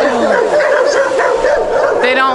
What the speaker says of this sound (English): This dude's getting attacked by dogs.